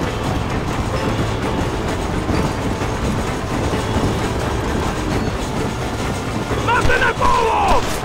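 A steam train engine in the Western video game Red Dead Redemption rumbles and clatters steadily throughout, with a brief rising tonal squeal near the end; no voices are heard over it.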